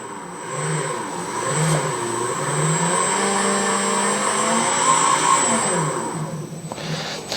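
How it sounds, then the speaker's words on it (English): A steady mechanical whir with a high whine hums close by, rising and falling slightly in pitch as a Begode EX electric unicycle's hub motor and bearings spin at speed. "you can hear the bearings a bit, so just take a listen to that"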